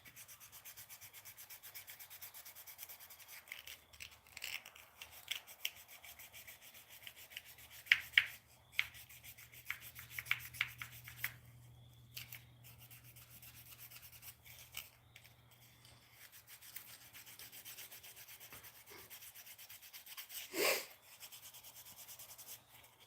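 Fishing lures and plastic diving lips are sanded by hand in quiet, irregular rubbing strokes, with scattered clicks and handling knocks between passes and a faint low hum underneath.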